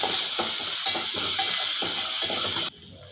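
Spoon stirring turmeric, ginger paste, salt and onions into a drumstick and tomato curry in oil: steady loud sizzling under rhythmic scraping strokes against the pan, close, cutting off abruptly near the end.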